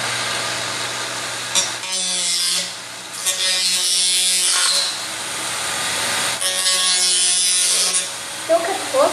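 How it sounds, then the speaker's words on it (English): A Dremel rotary tool cuts a shallow line in bursts, with a high buzzing whine that starts and stops several times, close by, while people talk between cuts. "so we're using a Dremel."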